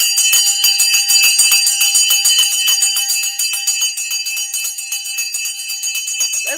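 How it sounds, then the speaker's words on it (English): A bell is rung rapidly and continuously to open a live stream, a loud, close, bright jangling that runs steadily throughout. "Let's go ahead and ring that bell to commence."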